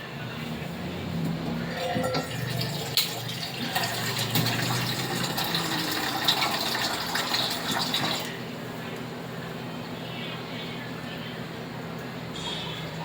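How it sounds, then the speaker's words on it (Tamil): Water is poured into a cooking pot while making nombu kanji, a rushing, splashing stream for about eight seconds before it drops to a quieter bubbling wash. "தண்ணி நல்லா போட்டுட்டேன்"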